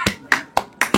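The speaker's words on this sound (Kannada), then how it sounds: "ಅಟ್ಲೀಸ್ಟ್ ಚಪ್ಪಾಳೆ ಹೊಡಿಯೋ. ಚಪ್ಪಾಳೆ" Hands clap five times up close, sharp and crisp in a quick, fairly even rhythm.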